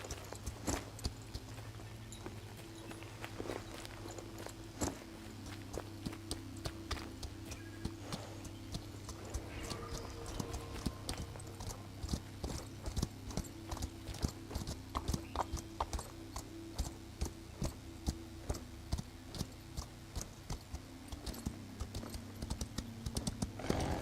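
Horse hooves clip-clop in the video game Equinox Homecoming, a steady, even walking rhythm that continues throughout, fairly quiet and with no talking.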